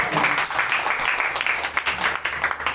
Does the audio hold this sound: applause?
yes